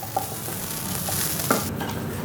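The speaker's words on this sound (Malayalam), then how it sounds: "ഇനി നന്നായിട്ടൊന്ന് വറുത്തെടുക്കാം." Curry leaves, shallots and four dried red chillies fry with grated coconut for Kerala ullitheeyal, giving a steady close sizzle with a few sharp pops and stirring scrapes.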